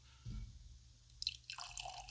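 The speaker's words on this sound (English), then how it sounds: "we're going to go ahead and get this open and have ourselves a pour" Kilbeggan Irish whiskey poured from a bottle into a glass, a soft splash followed by a light trickling, dripping flow, close and quiet.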